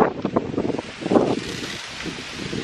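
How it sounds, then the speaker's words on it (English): Wind blows outdoors at a picnic, gusting and buffeting the microphone in uneven rumbling bursts that rise and fall over a steady rushing background. "It is actually very windy, just it feels really good."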